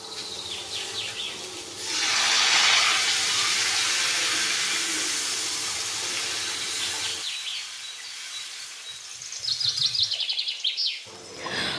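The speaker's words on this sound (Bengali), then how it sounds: "এখন আমি এর মধ্যে জল দিয়ে দেব।" Water poured into a pan of fried potatoes and peas bursts into a loud, broad hiss that holds steady for several seconds before cutting off, followed by faint bird chirps.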